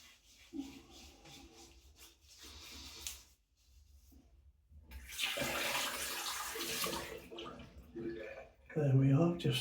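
Water splashing and rubbing at a sink while soap and water are worked into the face during a straight razor shave, in bursts of splashing and scrubbing with a louder surge at the end, with a voice talking in between.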